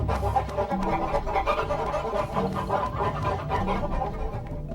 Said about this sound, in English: now that we no longer have that incessant clucking in our ear